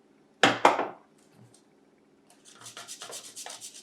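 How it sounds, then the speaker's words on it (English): Powdered chalk scraped across a cheese grater into a measuring cup: two sharp, close rasping strokes, a pause, then a run of quicker, softer grinding scrapes. "So we will powder our chalk. I'm going to go ahead and grind it into my measuring cup here."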